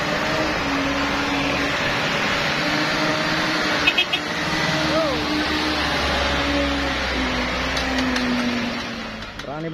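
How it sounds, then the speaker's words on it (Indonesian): Heavy trucks labour slowly up an uphill road, giving a steady, rumbling engine drone with a few clanks, at moderate distance, while someone talks over it. "mari kita lihat dulu bosku beberapa truk yang nekat lewat dari jalur"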